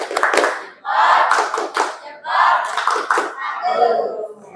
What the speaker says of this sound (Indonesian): Kasih tepuk jempol dong untuk teman-teman kita yang sudah membacakan tujuan pembelajaran.